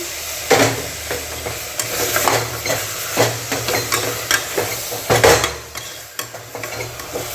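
Chicken pieces frying in a pan for a chicken curry, stirred with a utensil that scrapes and knocks repeatedly over a steady close sizzle, with no talking.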